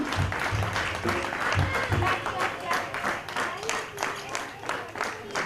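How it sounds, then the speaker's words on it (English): Children and parents clapping at a school sports day, with a soft, scattered patter of claps heard at a distance under nearby talking voices and some background music-like tones. "Let's clap for our friends, come on."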